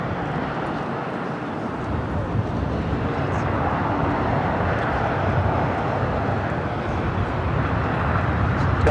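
A Cargo King cargo plane takes off from runway 7 right at LAX in extreme winds, its jet engines a loud, steady broadband roar that builds gradually, with faint voices beneath.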